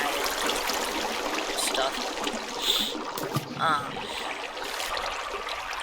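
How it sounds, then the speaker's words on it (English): Running water from a waterfall in the block-building video game Minecraft, a steady rushing wash that continues throughout, with a voice briefly speaking over it. "naturally occurring waterfall right here. I just made it a little bigger."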